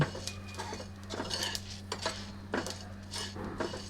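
Cumin, coriander, dried chili, fennel and salt are dry-fried in a pan, stirred with a utensil that scrapes and clinks against the metal in quick, close, irregular strokes over a faint steady hum.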